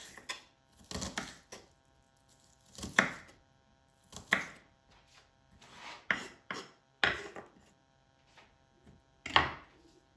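A knife chops cucumber and onion on a board for a salad, giving a run of crisp, close chopping strokes in quick bursts with short pauses between them.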